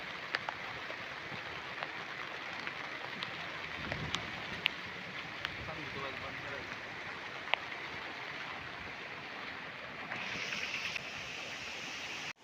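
Floodwater rushes over flooded rice fields during a Konkan flood, making a steady, faint wash of flowing water with scattered small splashes and no voices.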